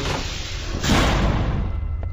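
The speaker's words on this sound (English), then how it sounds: "Uh, close the door behind me." A heavy door slams shut in SCP Containment Breach, a single loud thud over a steady droning game ambience.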